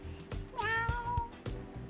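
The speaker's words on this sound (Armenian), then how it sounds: "կատուն" A single cat meows once in a drawn-out rising and falling call, close and clear, between soft rhythmic thumps in a children's cartoon.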